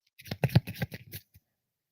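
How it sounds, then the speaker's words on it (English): A deck of tarot cards shuffled in a short run of crisp, close riffles and slaps lasting about a second, followed by silence. "I will mute while I shuffle for our first sign"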